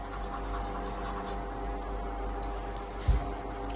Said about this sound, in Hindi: रुक जा फिर से लिखता हूं।